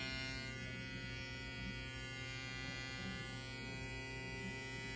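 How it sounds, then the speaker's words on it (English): A StyleCraft Instinct X electric hair trimmer runs continuously with a steady, even buzzing hum at close range, alone with no talking. "See what the trimmer sound like?"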